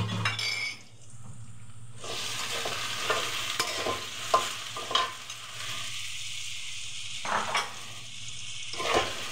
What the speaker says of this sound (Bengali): আমার আলুগুলো একটু ভাজা হয়ে আসছে, এখন দিয়ে দিব আমি ঢেঁড়সগুলো